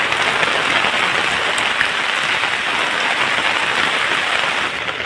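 Rain falls steadily on a Bengal village on a rainy-season day. It is a dense, even patter throughout, loud and close, with no voices.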